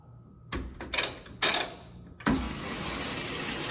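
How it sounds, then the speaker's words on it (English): Cold water starts filling a washing machine drum: after a quiet start, several splashy gushes and clunks arrive, then settle into a steady hiss of running water, close and without talk. "the water it start filling the washer. And this is cold water."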